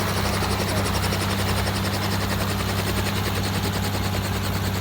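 Helicopter rotor and engine roar filling the whole stretch, loud, close and constant with a fast chopping pulse and no talk over it.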